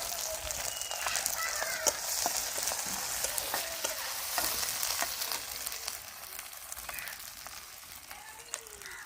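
Bay leaf, dried red chili, cumin and ginger frying in hot oil in a pan, a steady crackling sizzle with sharp pops, close and moderately quiet, with no talking.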